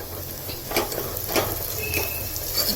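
Chili, onion and leaves fry in hot oil with a spoon of turmeric added for mutton kheema, a steady sizzle with occasional stirring scrapes, close and even throughout.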